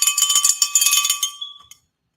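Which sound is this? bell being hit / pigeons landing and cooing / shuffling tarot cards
bell being hit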